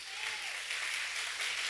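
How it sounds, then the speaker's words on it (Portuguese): Congregation applauding Jesus during a Portuguese-language church service, a steady wash of clapping at moderate distance with faint voices underneath. "Vamos aplaudir a Jesus bem forte."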